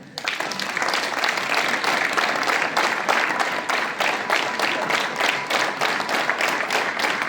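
A group of schoolchildren at a morning assembly claps together in a steady, continuous burst of many hands, loud and close, with no pauses throughout.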